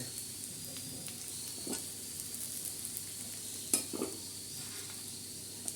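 Grated coconut roasting on a griddle beside black masala, a soft low sizzle broken by a couple of brief scraping stirs and light utensil knocks.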